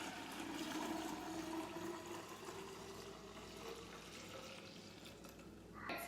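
Homemade almond milk pours into a plastic carafe, a soft continuous liquid rush that runs steadily and gradually eases off, with a brief clink right at the end.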